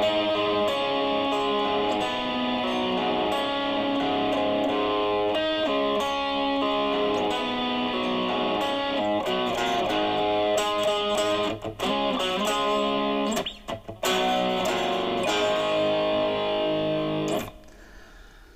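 Electric guitar played through a Michael Sweet ISP Theta Pro preamp pedal, dialed to a crunchy rock tone: loud, continuous distorted riffing with chord stabs and brief gaps, ending abruptly near the close.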